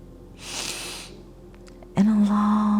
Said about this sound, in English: 2 sharp inhales in